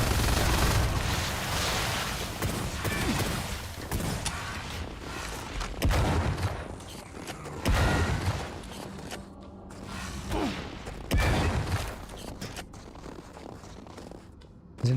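Shotgun blasts in a boomer shooter video game, a handful of loud booming shots spread irregularly across the stretch with mechanical clanks and reload clatter between them and no talking.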